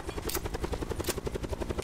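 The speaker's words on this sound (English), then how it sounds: "Somebody get the helicopter." A video game helicopter thrums with a fast, steady rotor beat, close and continuous for a brief moment with no talk over it.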